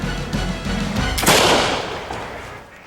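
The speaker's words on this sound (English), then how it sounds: "Dickinson got his shot off first." A single flintlock pistol shot in a reenacted historical duel rings out as a loud, sharp crack with a lingering, reverberant tail amid outdoor ambient noise.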